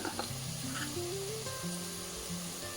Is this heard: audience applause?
no